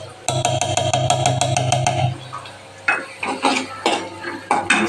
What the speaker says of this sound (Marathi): मस्त कांदा फ्राय होऊ द्यायचा.